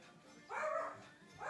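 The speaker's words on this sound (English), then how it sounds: "Please excuse the dogs." Small dogs yip and bark in a couple of short, high bursts inside a house, heard fairly faint and a little distant.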